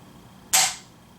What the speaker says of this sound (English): Second trigger pull.